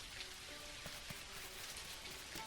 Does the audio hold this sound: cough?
no